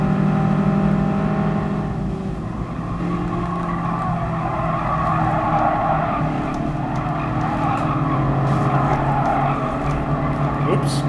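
A racing car engine in Gran Turismo Sport screams high toward 9000 RPM, rising and falling through gear changes with tire squeal over a dense, continuous engine roar, while someone speaks over it.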